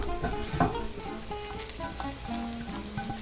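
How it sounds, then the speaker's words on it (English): Scallops sizzle in melting butter in a pan over low heat, a steady close fry with a few small clinks from utensils. "Got the butter melting, smells delicious."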